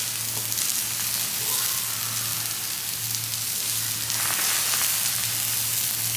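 Beef sears on a hot griddle with olive oil, kosher salt and pepper, giving off a dense, continuous sizzle and crackle close up, steady throughout with a low hum underneath and no talking.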